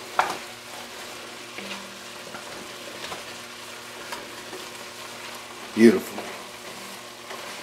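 Stewed chicken cooking down in a pot, a low continuous sizzle with scattered stirring scrapes and one louder clank near the end, while a voice briefly speaks.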